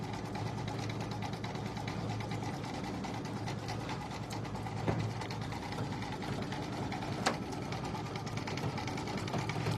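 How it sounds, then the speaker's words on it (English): A Baby Lock Altair 2 embroidery machine stitches with a steady, even mechanical whir and hum that holds through the whole stretch, fairly quiet and with no talk. "And we're stitching on the Baby Lock Altair 2 today."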